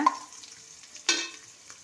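Onions with rock salt for a mixed vegetable sambar are stirred in a pan, a soft frying hiss broken by a couple of sharp scraping stirs of the spoon.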